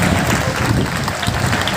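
Loud, dense applause from a large crowd welcoming a revered guru at a Hanuman Jayanti religious gathering at Bageshwar Dham, steady clapping filling the whole stretch without pause.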